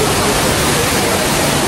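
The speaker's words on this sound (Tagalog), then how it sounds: "ito daw yung highest indoor waterfalls in the world" The tall indoor waterfall at Gardens by the Bay in Singapore roars as a steady, loud, broadband rush of falling water that fills the whole short moment without a break.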